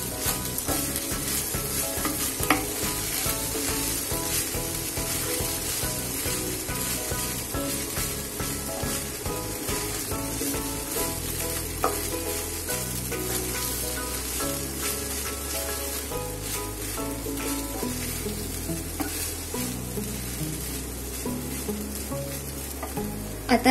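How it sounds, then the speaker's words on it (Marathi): Kanda-batata poha (flattened rice with onion and potato, seasoned with sugar) sizzles softly in a pan as it is stirred, a steady frying hiss that sits beneath louder background music with a melodic bassline throughout. "हलवून घेऊयात पोहे."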